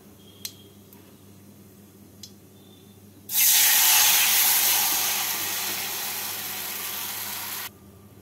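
Tamarind pulp hits a hot tempering of dried red chilli and five-spice in a pan, bursting into a loud, steady sizzle that fades slightly over about four seconds, then cuts off. A couple of faint clicks come before it.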